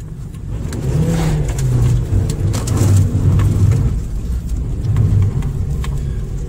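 A Toyota Yaris car drives up a snowy hill, its engine droning steadily with rising and falling revs as it climbs, heard from inside, loud and continuous without speech.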